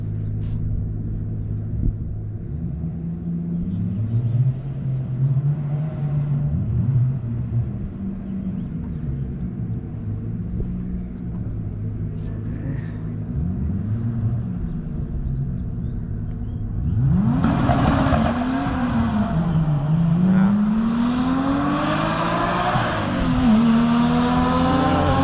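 A car on a race track makes a test pass, its engine droning low and steady, then revving up loudly with rising whines and shifts toward the end, with some talk under the engine noise.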